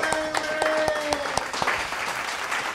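Applause from a comedy roast audience, a burst of claps and crowd noise with a sustained tone underneath and a voice talking over it.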